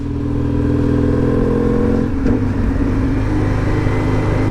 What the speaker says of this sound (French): j'arrive pas à décrire le bruit de cette bécane